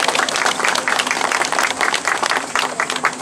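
A crowd at a street rally against constitutional revision and military buildup claps loudly and densely, a close, busy patter of many hands that holds steady for the whole stretch.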